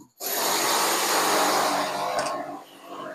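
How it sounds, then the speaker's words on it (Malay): Loud, continuous broadband mechanical roar of a jackhammer breaking ground for a drain, steady for nearly three seconds before easing off. "Orang tengah jack dekat bawah tengah buat longkang."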